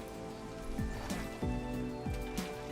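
Steady rain falls in the Minecraft video game, a soft continuous patter under a low game music tone, with a few brief swooping notes cutting through.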